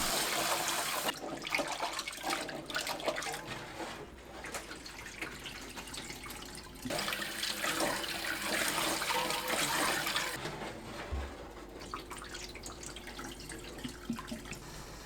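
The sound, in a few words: washing peeled garlic under running water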